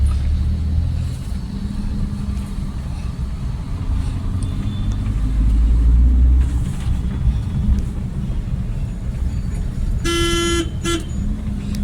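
Car engine rumbling during a driving lesson, a steady low drone from inside the moving car, with a couple of short horn beeps near the end.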